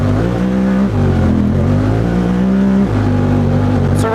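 A Honda Talon UTV engine screams at full throttle, its loud droning note climbing and dropping sharply as the automatic transmission shifts back and forth between gears.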